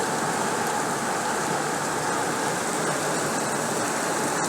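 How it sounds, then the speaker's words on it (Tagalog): Heavy monsoon rain pours in a steady, dense, loud roar that does not let up, with no voices over it. "Hindi na tumigil ang ulan."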